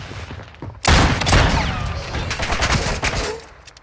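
Heavy bursts of gunfire in the shooter Call of Duty: Modern Warfare II, a sudden loud volley followed by rattling sustained shots and echoing decay, close and intense with no talk.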